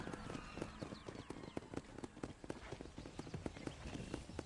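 Horse hooves clip-clop in a video game with a fast, even galloping rhythm, close and clear, repeated throughout without talk.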